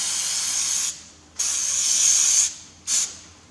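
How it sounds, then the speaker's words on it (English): Brake cleaner sprays onto a taper on a Massey Ferguson 135 tractor's right-hand trumpet housing during restoration in three loud close hissing bursts, the middle one longest, with no talk. "hit with the brake clean"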